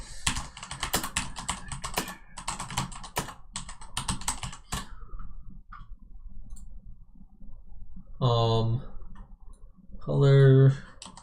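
Rapid clicking keystrokes rattle on a computer keyboard in quick, irregular bursts, close and crisp, then thin out into a few isolated taps while someone speaks briefly.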